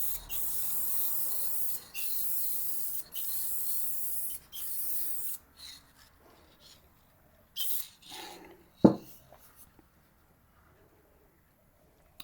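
Short bursts of 2K clear coat from an aerosol can sprayed onto a headlight, a series of close hissing passes with pauses between them, followed by quieter rustling and a sharp knock.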